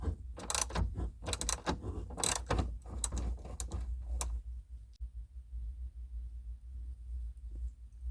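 A ratchet wrench with an extension loosens 9/16 bolts during dash removal on a 1970–72 Chevelle, a quick run of sharp clicks and clacks for a few seconds, then near silence.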